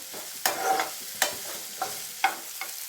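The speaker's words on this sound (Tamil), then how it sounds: "ஆனியன் நல்லா வதங்கணும், அப்போ தான் அந்த வறுவலுக்கு நல்ல டேஸ்ட் கொடுக்கும்." Onions sauté for a snake gourd fry, a soft pan sizzle broken by four or five sharp scraping stirs of the spatula at uneven intervals, close and fairly quiet with no voices.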